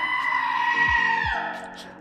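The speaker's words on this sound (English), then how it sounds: "Okay, so Mega Scream." A Mega Scream emote in a video game lets out a loud, drawn-out, bleating scream that holds for about a second and a half before tapering off, with brief faint sounds beneath it.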